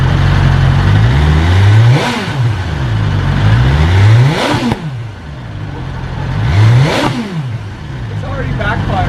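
A 2020 BMW S1000RR M superbike, newly bought and warmed up, revs hard in repeated rising and falling sweeps, loud and close, with sharp crackling backfire pops between the revs.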